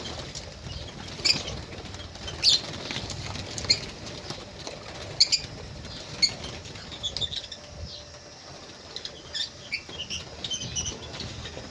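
Pigeons kept for sale in Iraq, black, African and other varieties, flapping their wings in repeated short bursts against a steady background hum, with soft bird movement throughout and no talk.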